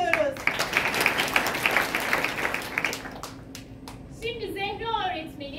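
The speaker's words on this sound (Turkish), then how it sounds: "Arkadaşımızı alkışlıyoruz." Audience clapping for a classmate during an improv theatre piece at a teachers' symposium, a steady patter of hands for about three seconds that fades out as voices take over.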